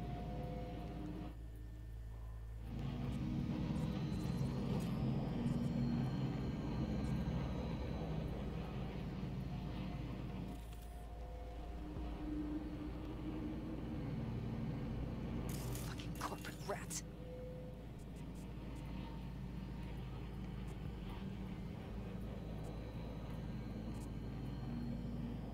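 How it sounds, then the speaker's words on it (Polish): Combat drones fly in the video game Cyberpunk 2077, a steady loud whirring drone mixed with game background noise and a few sharp crackling bursts. "A tu drony są."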